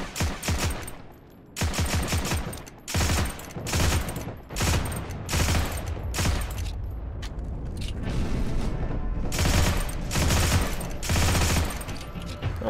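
A scoped semi-automatic rifle fires repeatedly in Heroes and Generals, loud sharp shots at an irregular pace, with a few pauses before the shots come closer together and blend into ringing battlefield echo.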